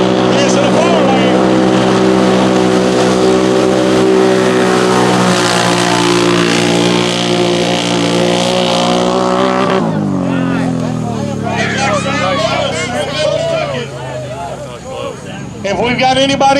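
Drag race cars launch side by side at an arm-drop start, a loud sustained engine roar building and then falling away into a rough, trailing rumble as they pull off down the lanes.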